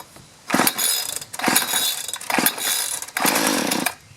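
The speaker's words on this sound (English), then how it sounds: "Now we'll go ahead and give her a pull, see if she'll start." Mini two-cycle tiller engine being pull-started with the choke on after sitting unused: four sharp recoil-pull bursts of rasping cranking, each a fraction of a second to a second long, close and loud, without catching.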